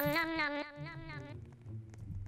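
A long, wavering cat meow in the Roblox game Cat Attack rises and falls, close and clear, then fades into a low background hum.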